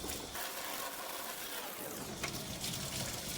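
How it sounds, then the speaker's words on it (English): Water runs steadily as it rinses soap and dirt out of a foam air filter, a constant close gushing splash across the whole short stretch. "you just rinse it outside and then inside out. We want to try and get all that soap off."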